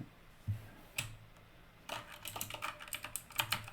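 A computer keyboard is tapped in a quiet room, first with a few isolated clicks and then with a quick, steady run of close keystrokes.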